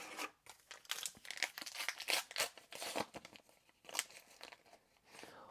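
A foil trading card pack crinkles and tears as it is opened, giving crisp close bursts of crackling in an uneven rhythm, fairly quiet and with no voices over it.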